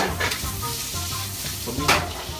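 Potatoes fry in a pan for lomo saltado, a steady close sizzle with a couple of brief bursts of louder spitting and stirring.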